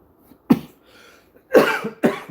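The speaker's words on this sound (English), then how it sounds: "Sorry about the coughing, people." Three harsh coughs, close by, separated by brief quiet: one short cough, then after a pause a longer rasping cough followed quickly by another.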